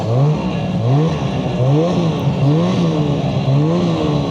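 A snowmobile's drive clutch whirs in a repeating, rising-and-falling pattern as the throttle is pressed and released, a steady near mechanical drone pulsing about every half second with no voices over it.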